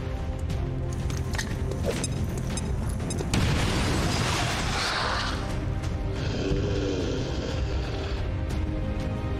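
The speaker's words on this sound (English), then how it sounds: "Throwing grenade!" A thrown grenade going off in a video game against alien invaders: low rumbling booms and a heavy burst that swells midway, followed by a long rolling, crackling tail over steady mechanical background noise.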